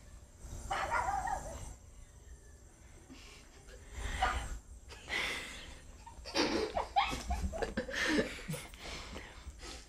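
A dog barks and yips repeatedly on a film set during a behind-the-scenes shoot, loud bursts coming in irregular clusters, with some laughter mixed in.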